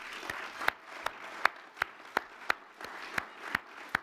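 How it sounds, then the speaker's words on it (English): Scattered applause from an audience at an alumni awards ceremony, a thin run of individual claps with sharp periodic accents from a few nearby hands, steady and moderate in level without voices. "please give them a round of applause"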